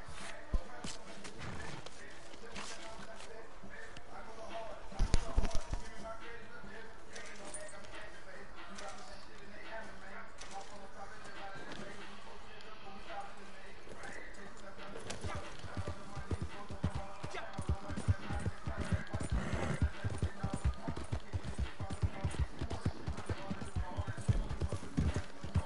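Horse in the video game Red Dead Redemption 2 in a snowy mountain setting, with a long run of steady clip-clopping hooves at a constant pace. A heavier thump comes near the start, and speech runs alongside at moderate level.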